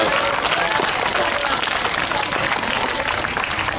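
Steady, dense applause from a crowd at a community festival of the navy, sustained and fairly loud throughout with faint voices mixed into the clapping.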